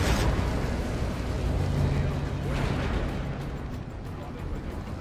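In Batman Arkham Origins, an explosion bursts at the start with a broad, heavy boom, followed by a second rumbling blast and a low roar that lingers, with a voice over it.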